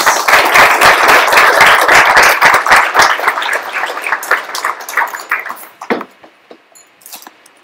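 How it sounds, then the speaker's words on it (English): Audience applause fills a presentation session on interactive VR, dense steady clapping for about five seconds that thins into scattered claps and fades out. "Let's give a round of applause to Will Eastcott."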